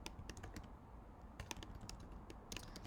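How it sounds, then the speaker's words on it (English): Fingers typing on a computer keyboard, a quick uneven run of light clicking keystrokes in small clusters with short pauses, close and clear, with no talking. "make sure we're typing correctly"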